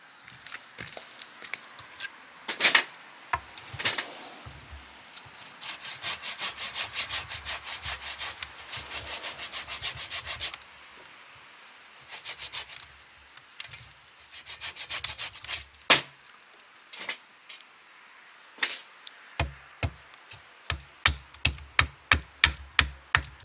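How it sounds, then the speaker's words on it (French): A hand saw cuts a kerf into a wooden spoon blank held in a spoon mule, a wooden spoon-carving vise. Steady rasping strokes run in bursts and end in a quick series of short, evenly spaced pulls, close by with no talk. "il faut faire un trait de scie pour protéger la partie qui vient après"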